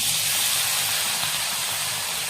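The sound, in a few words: lentils added to tempering in hot oil in a pan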